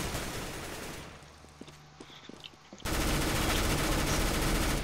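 Gunfire in Counter-Strike: Global Offensive, a few sharp shots in a quick cluster mid-clip, then a sudden loud burst of dense noise that fills the rest.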